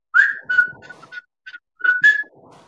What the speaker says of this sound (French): on a sifflé tous les quatre dans la boîte d'enregistrement